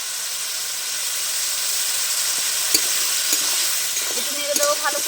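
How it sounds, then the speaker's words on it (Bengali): Chili powder and spices sizzle and hiss steadily in a pan with a splash of water, cooking for a Bengali rui fish curry, with soft stirring scrapes and small pops near the end. "মশলাটা যাতে না পুড়ে যায় তার জন্য সামান্য করে জল দিয়ে দিচ্ছি। লঙ্কার গুঁড়ো দিয়ে দিচ্ছি।"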